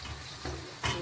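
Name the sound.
stirring vegetable and chicken sauce in a pan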